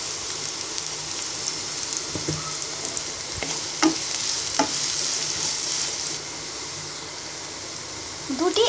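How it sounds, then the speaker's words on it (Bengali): Chopped onions and five-spice sizzle in hot soybean oil in a wok for homemade shingara filling, a steady loud frying hiss broken by a few scraping stirs. "একটি কড়াইতে 2 টেবিল চামচ পরিমাণ সয়াবিন তেল গরম করে আমরা 1 কাপ পরিমাণ পেঁয়াজ কুচি দিয়ে দিব"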